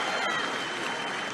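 A crowd at a Trump rally applauds and cheers, a dense continuous wash of clapping and shouting that fills the whole moment at fairly close range.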